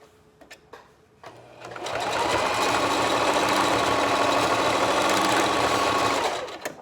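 A sewing machine runs a steady straight stitch through bikini fabric, starting after a few small clicks and humming continuously at close range for about four seconds before stopping, with no talk.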